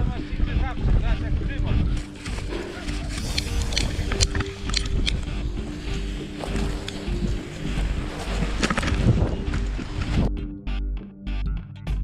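Strong wind buffets the microphone outdoors in a loud, continuous roar, with gusts rising and falling and a voice briefly heard beneath it.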